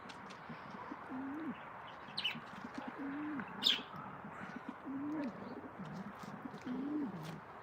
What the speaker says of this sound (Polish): Tutaj też mamy gołębie właśnie